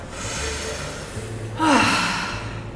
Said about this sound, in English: And cleansing breath.